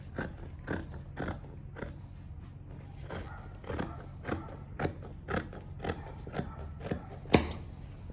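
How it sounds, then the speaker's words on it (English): Scissors cutting asooke fabric along a shoulder slant, a steady run of crisp snips repeating at a brisk even rhythm, close and fairly quiet, with one sharper click near the end. "So proceed to cut the shoulder slant."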